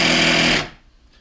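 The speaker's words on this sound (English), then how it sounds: "Looks like this is your air compressor button," The air compressor of a Duracell 750 jump starter runs with a loud, buzzing mechanical drone, then cuts off abruptly into quiet; no talk.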